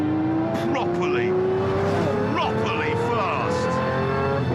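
A powerful car on normal road tyres driving fast, engine tone rising steadily while the tyres squeal in short bursts, with someone talking over it throughout.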